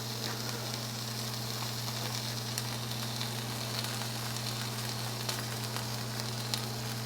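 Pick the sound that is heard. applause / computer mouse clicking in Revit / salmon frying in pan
salmon frying in pan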